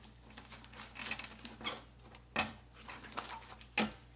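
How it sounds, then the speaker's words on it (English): Tarot cards being shuffled by hand: quiet, close papery riffles and soft slaps arriving in short irregular bursts, with a few sharper flicks near the end. "One more shuffle"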